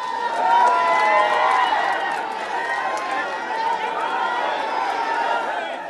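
A crowd of local people applauds and cheers as a rescued one-and-a-half-year-old toddler is brought up after a two-hour rescue, a dense steady wash of clapping and voices, loud and close, fading slightly toward the end.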